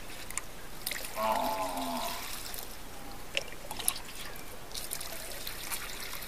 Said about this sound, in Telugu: ఈ కషాయాన్ని పత్తలాని గుడ్డ తీసుకొని ఉడవేయాలి.